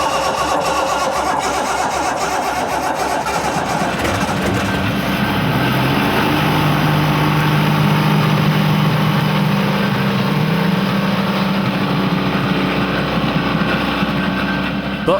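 A jet boat engine out of the water cranks and catches, then settles into a steady, loud idle with a droning hum and a slight rattle throughout.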